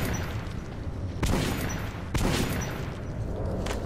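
Flame grenade thrown and exploding in the video game Metro Redux, with several heavy booming bursts over a dense, continuous roar of fire and gunfire.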